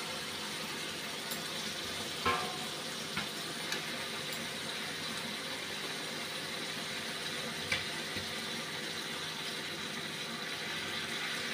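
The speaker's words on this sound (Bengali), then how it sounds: "এখন মাছগুলো দিয়ে দিচ্ছি।" Rui fish pieces and spinach leaves fry in spiced oil in a pan, giving a steady, even sizzle throughout with a few faint clicks and taps, no voices.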